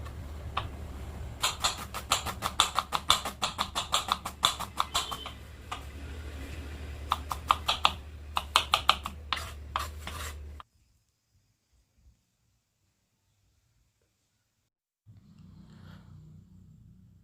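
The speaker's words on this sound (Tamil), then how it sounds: "நான் பெரிய வெங்காயம் ஒன்று எடுத்துருக்கேன். நல்லா ஃபைனாக சாப் பண்ணிக்கலாம்." A knife chops a large onion finely on a board, making quick, rhythmic close-up taps in uneven bursts for about ten seconds before falling silent.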